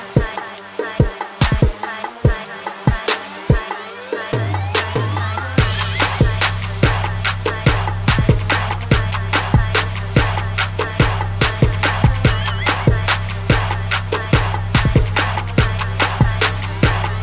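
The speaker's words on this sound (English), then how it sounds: "My neighbors are outside. I think they're pulling their garbage can." Neighbours outdoors drag a garbage can along, its wheels producing a run of rhythmic clacks and a rolling rumble that grows steadier and continues at moderate distance.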